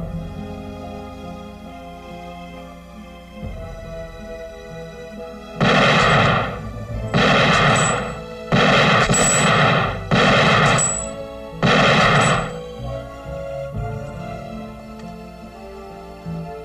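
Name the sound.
gunshots from target shooting in a film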